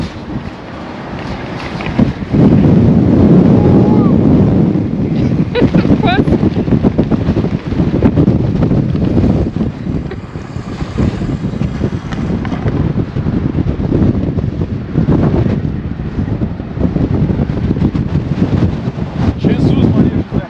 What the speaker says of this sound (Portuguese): É muito frio esse vento